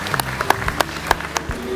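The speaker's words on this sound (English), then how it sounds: "Let's give both of them a round of applause" Scattered hand claps from a small audience at an early childhood center gathering, sparse and uneven individual claps rather than a full ovation, fairly close with faint room murmur.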